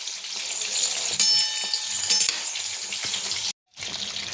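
Chicken lollipops frying in hot oil over a high flame, a steady bright sizzle with crackling bursts, close and continuous, briefly dropping out near the end.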